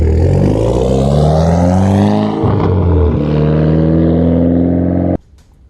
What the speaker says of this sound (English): There's a lot of noise coming from the exhaust pipes on this car.